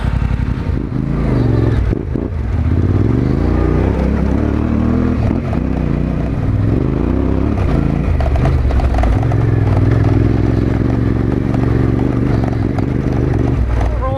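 Yamaha Tenere 700 (T7), a 2020 adventure motorcycle on Dunlop D908 Rally Raid tires, ridden off-road over mountain gravel: a loud, steady engine drone with revving swells and gravelly clatter and scraping throughout, with no talk.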